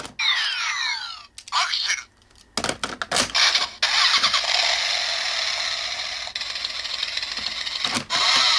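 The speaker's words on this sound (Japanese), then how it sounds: "こんなかっこいいアイドリング音から変身音が鳴って" A DX Accel Driver Kamen Rider toy transformation belt gives a mechanical whirring and clicking start-up, then a steady, loud motorcycle-engine-like idling rumble that holds for several seconds, with no talking.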